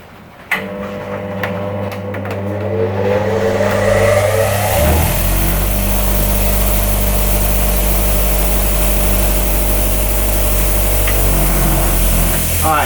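A bench grinder motor starts up and keeps running, a loud steady hum with strong low tones that builds over the first few seconds and then holds close and constant.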